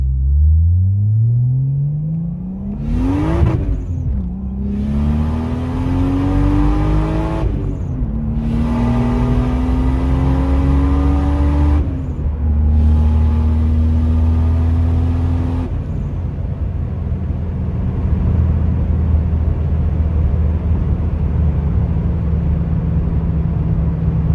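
A car with new coil packs and a rebuilt clutch rolls along, then accelerates hard. The engine note climbs loudly through three quick gear changes, each shift marked by a brief dip before the revs rise again, then settles into a steady cruise.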